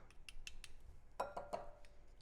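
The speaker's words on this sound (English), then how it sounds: "Another whisk." A few quick metallic clinks and taps of a whisk against a bowl while mixing a cranberry glaze for ham, light and close, in a short irregular burst.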